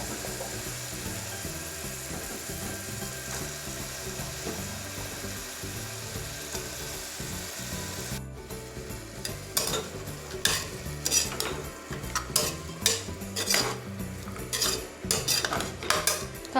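Chopped vegetables for veg pulao tipped into a pan and stirred, with a steady background hum giving way halfway to repeated close clinks and scrapes of a spoon against the metal pan, no talk.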